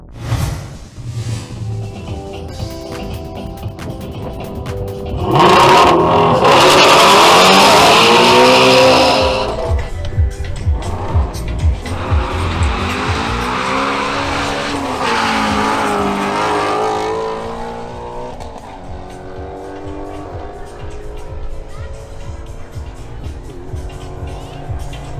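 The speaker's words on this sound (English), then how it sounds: "Now it's the turn for Julian Prado's Ford Mustang Shelby GT350." A Ford Mustang Shelby GT350 launches on a drag strip, its engine revving hard with tire squeal and rising acceleration roars and gear changes, loud and close, then fading as it pulls away.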